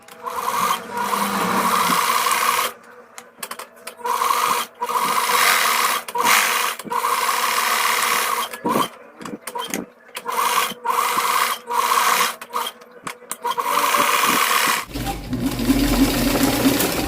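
A sewing machine darns the worn seat seams of a pair of trousers in repeated runs of close, loud rapid stitching, each run broken by short pauses as the fabric is repositioned.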